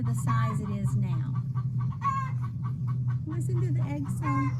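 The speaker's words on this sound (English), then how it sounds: "Listen to the egg song." A hen gives her egg song in a backyard chicken run, loud repeated rhythmic clucks and cackles close by, with other chicken sounds around.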